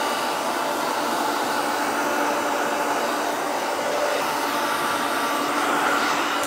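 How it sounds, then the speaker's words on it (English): Hair dryer fitted with a diffuser drying a man's curly hair in a salon, a loud, steady broadband whoosh of blowing air that holds constant throughout without a break. "Just put that diffuser on. And bring out all these curls sitting through."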